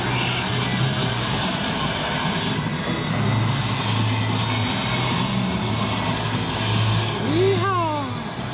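A racing car in an arcade video game revs and accelerates, a loud, dense engine roar blended with machine noise, and a rising electronic tone sweeps up near the end; people talk over it.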